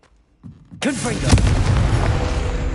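A Confringo fire blast spell explodes in Hogwarts Legacy, a sudden loud burst that rolls into a sustained roaring rumble, after a voice briefly calls out.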